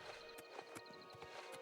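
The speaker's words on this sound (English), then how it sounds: "I guess he's still riding his horse." Horse hooves clip-clop in a steady walking rhythm in Oblivion Remastered, moderately close, against constant in-game ambience, with about five distinct hoof strikes.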